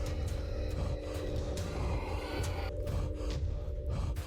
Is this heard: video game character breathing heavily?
yes